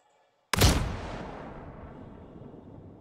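A single loud shotgun blast in Star Citizen, sharp and close after half a second of silence, followed by a long rumbling tail that fades with no talking.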